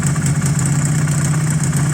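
Honda CB250 motorcycle engine idling while warming up on a bobber project, a close steady low putter with an even pulsing rhythm and no revving.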